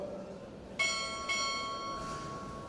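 A ship's bell is struck twice during a Navy chief petty officer pinning ceremony, two bright ringing strikes about half a second apart, each leaving a long sustained metallic ring in a reverberant hall.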